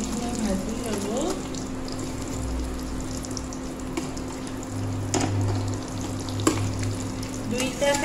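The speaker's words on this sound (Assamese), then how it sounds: "মই এতিয়া কণীখিনি ধুনীয়াকৈ ভাজি ল'ম ৰঙচুৱা হোৱাকৈ।" Eggs frying in a pan, a continuous sizzle with occasional stirring and scraping sounds over a steady low hum, close to the pan.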